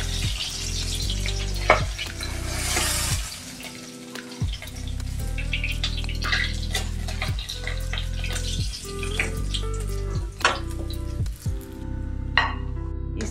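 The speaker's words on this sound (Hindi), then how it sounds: "हम मछली को अच्छे से उलट पलट करके फ्राई कर लेंगे।" Pieces of rohu fish fry in hot oil in a home kitchen, with a steady close sizzle broken by clinks and scrapes of a utensil turning them over.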